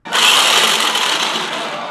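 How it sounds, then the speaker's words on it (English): An immersion stick blender whirs steadily through frosting, a continuous close motor buzz with a slight drop in level as it runs. "I'm switching over to my stick mixer"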